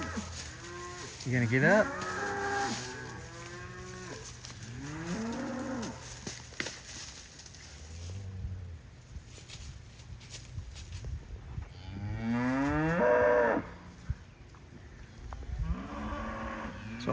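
A red cow on a farm moos loudly several times, with long low calls near the start, middle and again around the thirteen-second mark, while someone speaks softly to her between calls.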